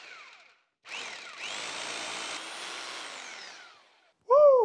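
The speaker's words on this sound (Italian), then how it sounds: "Devo cambiare il trapano, vuoi dirmi?" An electric drill whirs steadily for about three seconds at close range, then winds down and stops, followed by a brief sharp squeal.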